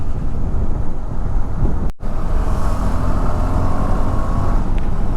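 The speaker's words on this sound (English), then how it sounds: "Because I started early for work today, I am facing a lot of traffic" Dense city road traffic at the Kukatpalli Y junction, heard from a moving KTM Adventure 390 motorcycle as a loud continuous roar of engines mixed with heavy wind buffeting, with a brief dropout partway through.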